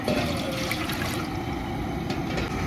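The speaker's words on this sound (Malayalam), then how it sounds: "നമ്മൾ 3-4 പ്രാവശ്യം ഇത് കഴുകി കഴിഞ്ഞാണ് ഇതിന് വെള്ളം ഊറ്റിക്കളഞ്ഞേക്കാം." Rinse water pouring off washed rice, a brief close rushing gush of draining liquid that runs steadily throughout without talk.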